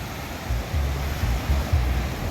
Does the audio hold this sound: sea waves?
yes